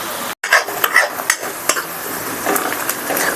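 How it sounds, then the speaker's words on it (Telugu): Onions almost browned in a pan during Bagara rice cooking give a soft sizzle while a utensil stirs and scrapes against the pan in quick irregular strokes, close and alone, with one brief dropout early on. "ఆనియన్స్ ఆల్మోస్ట్ బ్రౌన్ అయిపోయినాయి కదా, ఇంకెక్కువ చేస్తే మాడిపోతాయి."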